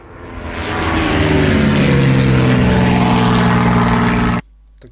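A propeller plane engine drones steadily and loudly with a rich, buzzing hum, holding for about four seconds before cutting off abruptly.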